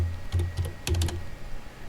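A few close keystrokes on a computer keyboard, two short clusters of quick clicks with a pause between, against a faint hum.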